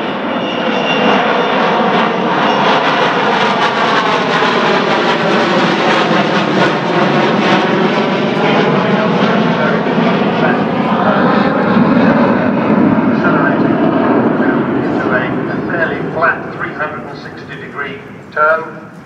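An Avro Vulcan B.2 bomber, XH558, makes a low overshoot at the Farnborough International Airshow. Its loud engine roar swells as it passes overhead, then thins away near the end.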